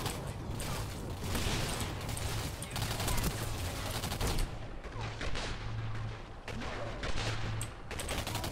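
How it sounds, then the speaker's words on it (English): Rifle gunfire in the video game Singularity: a steady run of quick shots with mechanical clatter and creaks, moderately loud against a busy game mix, with faint talk underneath. "they're actually pretty easy to take out with a rifle"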